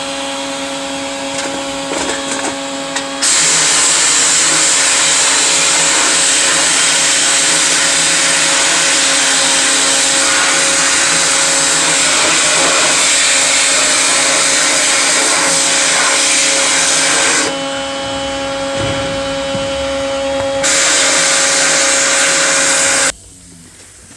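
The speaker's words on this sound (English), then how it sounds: "we have successfully sandblasted the heat shield and the decatted catalytic converter" An exhaust heat shield and decatted catalytic converter from a 1991 Toyota MR2 are sandblasted, a loud continuous hiss-roar in long bursts with short pauses, abruptly cut off near the end.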